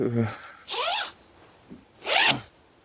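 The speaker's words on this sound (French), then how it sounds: "lorsque l'on remonte la fermeture éclair, souvent elle se coince dans la texture interne du duvet" A zipper on a sleeping bag is pulled closed in two quick, loud rasping strokes about a second apart, with brief speech at the start.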